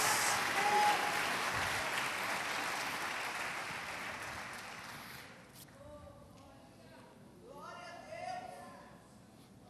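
A church congregation applauds during an evening sermon, a broad, sustained wave of clapping that fades after about five seconds, followed by someone speaking alone.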